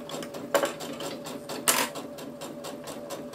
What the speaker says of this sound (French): Donc là, je continue ma couture.